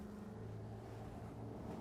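A steady, low engine drone from a mobile dust collector runs at a constant 1600 revs, a continuous rumble with wind-like noise over it and no other sounds.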